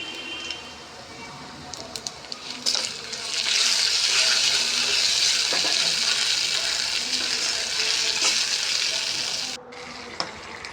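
Cooked moong dal and rice are stirred into ghee in a pan, producing a wet, sloshing scrape that swells mid-clip and holds steady. A few utensil knocks are heard and a voice speaks faintly at the start.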